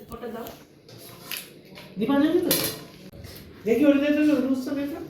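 Spoons clink against dishes in a busy family kitchen, bright metallic taps and clatters scattered through the clip while people chat and talk loudly over them.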